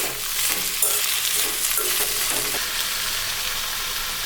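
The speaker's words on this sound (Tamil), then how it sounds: "வதக்கி விடலாம்." Peeled tomatoes with a little salt sauté for a South Indian tomato chutney, a loud dense sizzle running steadily throughout with faint stirring scrapes.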